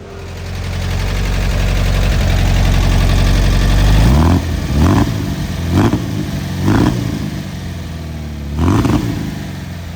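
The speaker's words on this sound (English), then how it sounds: "now the engine's running" A Porsche-powered beach buggy engine runs with a low, steady rumble, then revs up in several short, loud bursts.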